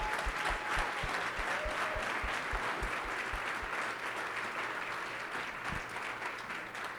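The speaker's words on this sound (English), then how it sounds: "give them a round of applause for the amazing work that they've done" A luncheon crowd at a chamber of commerce event gives sustained applause, a thick continuous clatter of many hands, with a few close, rhythmic claps standing out at first before the sound gradually thins.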